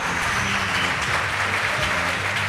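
A poetry slam audience applauds in one steady, dense burst of clapping that fills the room, loud and continuous from start to finish with no voices above it.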